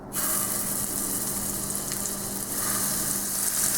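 Meatballs of ground beef frying in a little oil in a large hot pan give a loud, steady, dense sizzle that starts abruptly and holds without a break, close up and alone.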